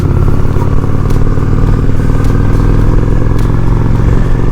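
A Honda Shadow 750 ACE motorcycle is ridden with a continuous loud, deep engine rumble and wind noise that stays steady and close throughout.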